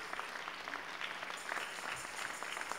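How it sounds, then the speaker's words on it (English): A church congregation claps in praise during a Sunday Communion service, a brief burst of dense, steady hand clapping from many people, moderately faint and without speech over it. "Can we give the Lord a hand clap of praise?"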